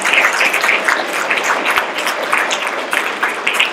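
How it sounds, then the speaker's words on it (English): A big round of applause at a high school graduation after a list of student names is read: loud, dense, continuous clapping from a large crowd, steady from start to finish. "All right, big round of applause."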